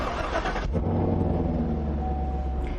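A 2020 Chevrolet Camaro 2SS convertible started by push button: a short whir and catch, then a deep, steady idle rumble close by with a faint whine running under it.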